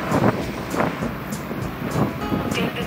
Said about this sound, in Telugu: చూడు అలలు చూడు ఒకసారి